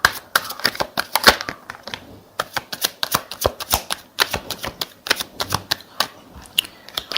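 Tarot cards shuffled in steady, crisp riffling bursts, close and fairly loud, with rapid papery flicks and brief pauses between runs, no talking.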